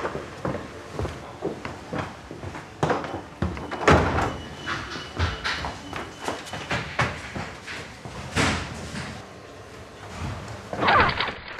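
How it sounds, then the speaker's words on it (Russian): Door opened from the other side in a mystery detective film: a sequence of sharp knocks, clicks and rattling bangs of varying loudness, close by, with no speech. "Когда я услышал, что дверь открывают с той стороны"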